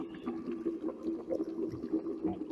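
A layered bubbling water effect in a composed sound piece gives a quiet, continuous burble of small bubbles and gurgles with a busy, uneven rhythm throughout.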